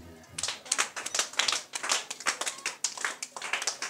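Applause from a church congregation, with dense, steady clapping from many hands that rises and falls in bursts and stays fairly close and lively throughout.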